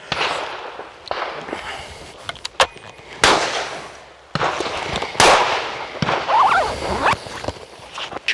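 Shotgun shots ring out at a clay shooting ground during the 2021 British Open sporting clays competition at EJ Churchill, several sharp, loud bangs spaced irregularly with outdoor background noise between them.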